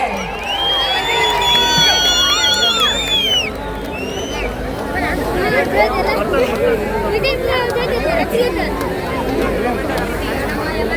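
A large festival crowd at Hampi Utsav cheers and whoops, with loud chatter and shouting throughout and a constant dense babble of voices.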